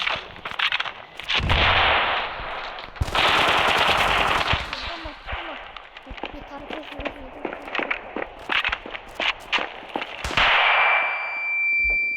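Rifle gunshots crack in rapid bursts, loud and close, with sharp repeated reports and short pauses between volleys, while voices talk intermittently underneath.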